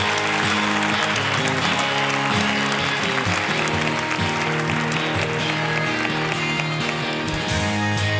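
Audience applause welcoming someone speaker, Sherri Taunton, to the stage at a talk event, steady and sustained throughout with dense clapping over a music-like tonal background.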